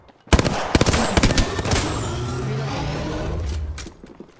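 Rapid bursts of gunfire in the battle-royale shooter Apex Legends, loud and close, with sharp repeated shots over the first second and a half giving way to a sustained mechanical rumble and faint trailing shots.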